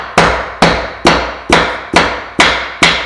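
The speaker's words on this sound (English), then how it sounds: "I'll just tap it like this, and that doesn't hit the top of the board where the joint's going to go." A hardwood floor board is tapped into place with a hammer: seven sharp, loud, evenly spaced knocks, each ringing briefly, with no talking.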